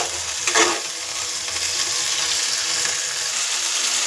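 Potatoes sauté in a pan after a splash of water goes in, an initial burst of hissing steam settling into a steady close sizzle with light stirring throughout and no voices.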